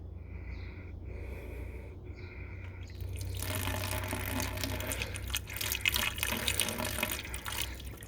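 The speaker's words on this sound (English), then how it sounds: "I'm gonna take this bucket of water, or this cup of water right here, and kind of simulate water entering the storefront by pouring it into" Water is poured from a cup into the sill track of a storefront weep system, a steady close trickle and splash that starts after a few seconds and continues to the end.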